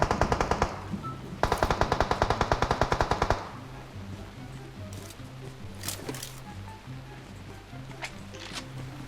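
Rapid bursts of automatic gunfire in PUBG Mobile in two rattling volleys, followed by a quieter stretch with scattered sharp shots over a looping background beat.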